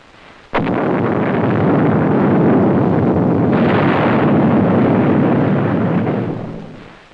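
Nuclear explosion blast: a sudden sharp onset followed by a loud, sustained roaring rumble that swells and then slowly fades, with no voices.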